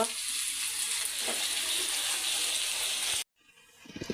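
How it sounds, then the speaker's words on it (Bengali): Potato and pointed gourd fry in a pan with a steady, close sizzle for about three seconds, then it cuts off abruptly and a faint clatter follows. "আলু আর পটল ভাজি হচ্ছে"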